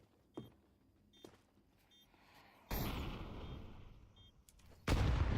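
A grenade explodes in a competitive shooter video game, a loud blast with a rumbling tail after a few faint clicks and distant shots, followed by another burst at the end.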